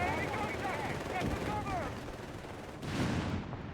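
Machine gun fire in Company of Heroes 3 ripping into engineers: a dense, continuous rattle of distant automatic fire under a commentator's voice.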